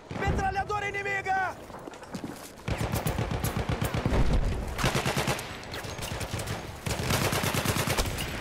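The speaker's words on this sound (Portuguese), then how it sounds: "Metralhadora inimiga!" Enemy machine gun fire in the Battlefield 1 video game, with rapid bursts of automatic shots repeating across the clip alongside distant explosions, while a player shouts over the gunfire.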